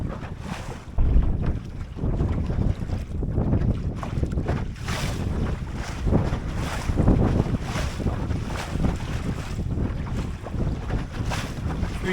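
Wind roars and buffets steadily across a Drascombe Lugger sailboat during a race, with loud microphone gusts pulsing every second or so over the rush of water along the hull.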